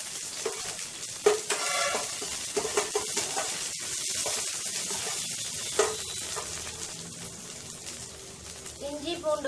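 Chopped onion and green chilli frying in a pan, a continuous sizzle with stirring scrapes and a few clanks, while someone speaks over the cooking.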